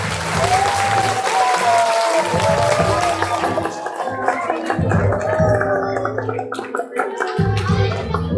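Students at a school Foundation Day celebration clap steadily in a loud, sustained round of applause, with a voice and other tonal sounds running over the clapping.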